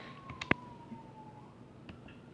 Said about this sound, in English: there's a bunch of police sirens